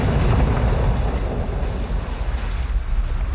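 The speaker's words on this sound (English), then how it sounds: "They put a cannon on a nearby building." Cannon fire from a nearby building in the video game Dying Light 2 produces a loud, continuous roar of booming explosions and rumble, dense and wide-band throughout, with no speech.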